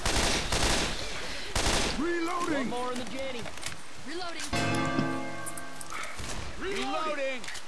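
Rapid bursts of gunfire from Left 4 Dead 2 crackle and rattle repeatedly, loud and close, mixed with game effects while several players talk over the shooting throughout.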